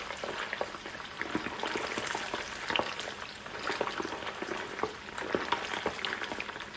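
Chicken tikka pieces frying in hot oil for a BIR-style paneer curry, a dense continuous crackle and bubbling with sharp spitting pops throughout, close and fairly loud.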